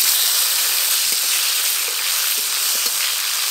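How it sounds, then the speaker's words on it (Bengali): Chopped tomato fries in a pan with whole cumin, bay leaves, cardamom and cinnamon, giving a steady close sizzle and hiss with faint stirring taps and no talk. "টমেটো ভালো করে ভাজা ভাজা হয়ে গেছে"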